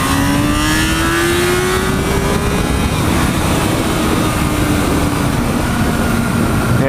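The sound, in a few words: inline-four motorcycle engine revving, 98 horsepower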